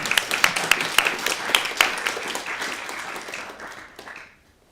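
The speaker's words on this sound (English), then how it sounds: "Round of applause for our winners." Audience applause for prize winners at a talk on magic and power, a dense burst of clapping that thins out and fades to near silence by the end.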